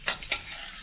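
Curry leaves drop into hot oil for an omapodi snack, giving a few quick crackling bursts that settle into a faint, steady sizzle, with no voices.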